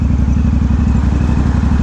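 Motorcycle engine running close and loud during a ride to work after a winter storm, a steady throbbing rumble with rapid regular firing pulses and no talk.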